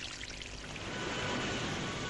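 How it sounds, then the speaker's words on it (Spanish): Spring water pours over a cliff edge in a steady, dense rush of splashing, loud and close, unbroken throughout. "a medida que se vierte el agua del manantial en este precipicio"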